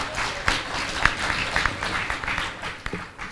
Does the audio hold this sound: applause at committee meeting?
yes